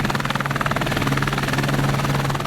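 Helicopter of a wildfire attack crew approaching a forest fire, its steady rotor chop and turbine whine continuous and moderately close throughout, with no talking.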